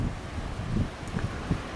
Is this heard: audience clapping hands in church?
no